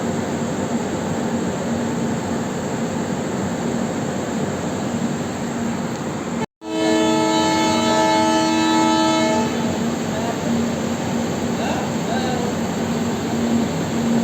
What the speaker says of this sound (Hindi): क्या हॉन्किंग है डीजल लोकोमोटिव का।